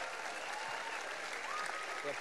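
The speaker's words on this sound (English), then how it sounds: "Let's give them another round of applause." Audience applause at a school winter chorus concert, a steady dense wash of clapping held for the whole moment at moderate level, with some voices mixed underneath.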